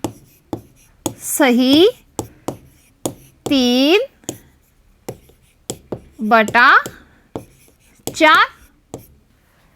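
Numbers being written during a Class 4 maths lesson on fractions: short scratchy strokes and taps come between and under a teacher speaking Hindi.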